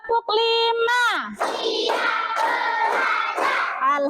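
Schoolchildren in a class clap their hands together in a rhythmic routine, steady rapid claps running under their loud group chanting and calls.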